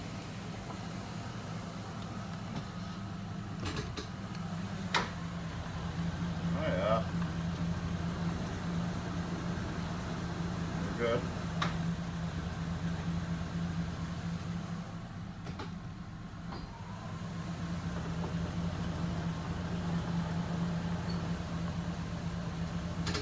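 A 1986 Oldsmobile Cutlass engine idles after transmission work, a steady low hum running evenly throughout while people talk over it.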